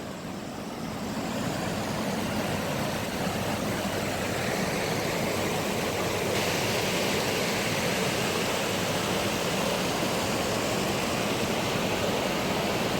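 A river near Wigan pours over a weir, a constant broad rushing roar that stays loud and even throughout, with no voices over it.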